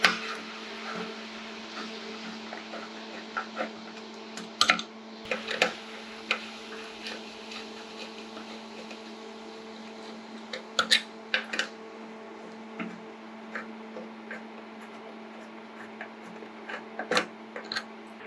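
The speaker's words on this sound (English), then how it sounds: "I'm gonna go through and loosen the bolts here and take these guys out really quick." A 4mm hex wrench loosens the fuel cap bolts on a Kawasaki Ninja motorcycle, giving faint, scattered metallic ticks and clicks over a steady background hum, close by and quiet.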